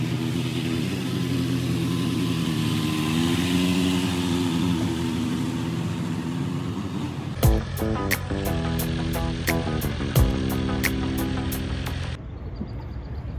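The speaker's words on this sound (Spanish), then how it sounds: "voy a probar la moto por primera vez." A 2023 BMW S1000RR sport motorcycle engine, 207 hp, idles with a low rumble, then revs sharply several times in quick bursts before settling back down.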